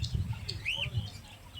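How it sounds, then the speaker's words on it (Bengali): At a bird market, a cockatiel gives a single clear rising-and-falling chirp, with a few fainter chirps around it over a quiet, low murmur of background noise. "এখানে ককটেল দেখতে পাচ্ছেন, লুটিনো ককটেল, পাইট ককটেল,"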